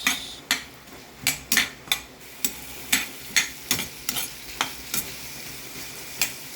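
Carrots sauté in a hot pan, a steady sizzle broken by about a dozen sharp, evenly paced clinks and scrapes as a utensil stirs them, close and clear.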